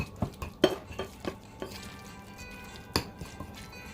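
Tuna soaked in mayonnaise being mashed and stirred in a bowl, with a spoon or fork scraping and clinking against the sides in irregular taps and soft squishes, close and fairly quiet, with no talking.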